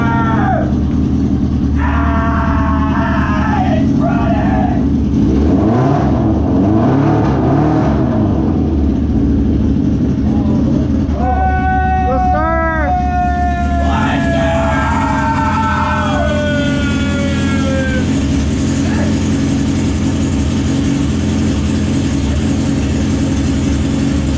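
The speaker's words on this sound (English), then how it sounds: "We finally got that engine running." A Kawasaki ZX9R motorcycle engine running on its first start, a loud steady drone with revving rises and falls throughout, heard up close with no talking.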